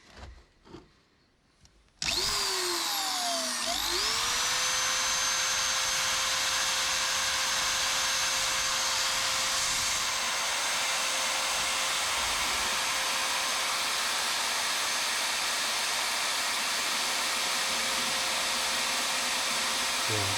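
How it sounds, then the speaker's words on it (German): Hand drill clamped in a vise spins a grinding bit to sharpen a steel center punch: after a few quiet knocks it whirs up to a steady high electric whine that holds, with a faint grinding rasp, for the rest. "Und dann kann ich den Körner damit anspitzen."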